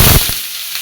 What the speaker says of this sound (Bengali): পাঁচফোড়ন এর মধ্যে দিয়ে দিচ্ছি